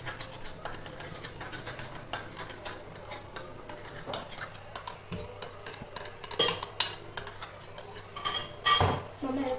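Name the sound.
mashing curd finely with a spoon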